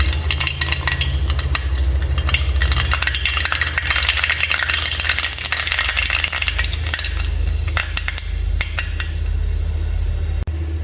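Steady, loud sizzling of mustard seeds frying in hot oil, with sharp pops and crackles scattered throughout and no voices.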